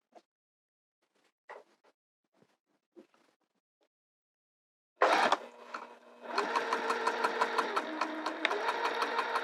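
After a few faint scattered clicks and taps, a sewing machine stitching a skirt starts abruptly and runs in a rapid, even mechanical whir, close and steady for the final several seconds.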